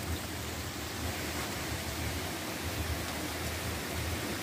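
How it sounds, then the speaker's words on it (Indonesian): A river flows through dense forest in northern Borneo near a campsite, heard as a constant soft, even hiss of running water with a faint low rumble, steady throughout and without speech. "Ada bunyi-bunyi sungai."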